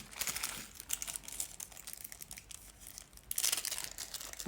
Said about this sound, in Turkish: poşetteki vidaları masaya şöyle dökelim